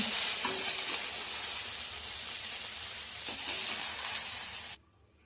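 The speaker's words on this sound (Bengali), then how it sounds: "এই তেলেই সয়াবিনটাও ভেজে নেব" Soya chunks fry in hot oil in a wok, a dense, steady sizzle with faint stirring scrapes that runs loud and close for nearly five seconds, then cuts off abruptly into near silence.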